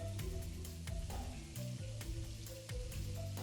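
Garlic and onion sizzling steadily in hot olive oil in a pan, with a constant frying hiss and intermittent scraping clinks as a utensil stirs, close and continuous, no talking.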